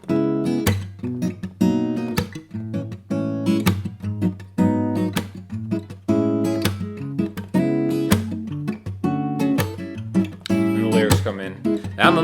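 Guitar playing a song, three chord progressions in E, strummed in a steady rhythmic pattern, loud and close, with a voice singing over it near the end.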